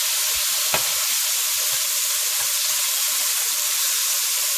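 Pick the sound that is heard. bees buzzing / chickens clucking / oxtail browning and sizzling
oxtail browning and sizzling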